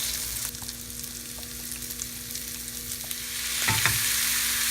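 Sausage and vegetables frying in a pan, a soft continuous sizzle with scattered crackles and scraping stirs, growing louder near the end.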